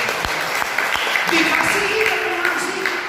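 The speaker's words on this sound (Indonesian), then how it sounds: "Tepuk tangan bagi Allah kita." Church congregation applause during a sermon on family, a dense wash of clapping heard under some faint voices and murmuring, fairly loud and steady for a few seconds.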